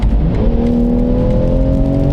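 A BMW G80 M3 accelerating hard from inside the cabin, its engine note climbing steadily in a loud, continuous rising drone with no voices.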